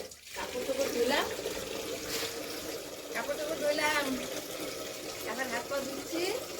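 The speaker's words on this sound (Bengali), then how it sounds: "এখন হাত পা ধুচ্ছি" Tap water runs steadily as hands and feet are washed, a continuous splashing stream with a voice talking over it.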